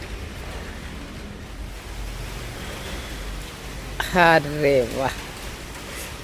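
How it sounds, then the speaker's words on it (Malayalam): Soft, steady hiss of light drizzle fills the background throughout, with a brief exclamation from a voice near the end. "പൊടിമഴയുണ്ട്"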